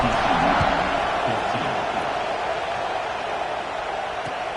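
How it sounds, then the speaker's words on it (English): A college football stadium crowd at a Nebraska vs TCU game buzzes after a touchdown and extra point, a broad, steady roar of many voices heard from a distance with faint commentary beneath. "this crowd is buzzing after that last score"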